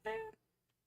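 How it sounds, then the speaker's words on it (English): A pet cat gives a single short, tonal meow up close, followed by near silence. "Oh, Pepe, my kitty kitty wants all the lovin's, and he wants all the lovin's right now."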